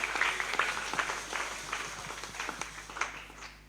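A church congregation claps for the Lord in a busy, uneven patter of many hands, moderately loud and continuous, with faint voices mixed underneath.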